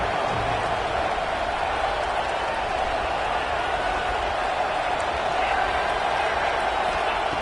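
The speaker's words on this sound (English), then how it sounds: "the crowd coming to life here, trying to help this defense down in the red zone." A stadium crowd at a football game against Miami roars steadily as the defense holds in the red zone, a dense, constant wash of cheering with no breaks.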